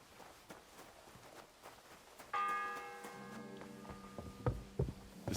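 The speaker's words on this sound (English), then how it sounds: "The 6th bell." Church bell tolling the sixth hour in the medieval game Kingdom Come: Deliverance II, one ringing strike that hangs and decays over soft ambience, with footsteps thudding close by afterward.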